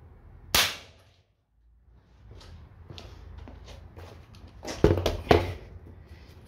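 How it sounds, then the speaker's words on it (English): Single sharp Dan Wesson revolver shot rings out once, loud and close, then a few fainter clicks and handling knocks follow, with two more sharp snaps near the end. "I'm going to do another shot with the Don Wesson, just to make sure, in the middle."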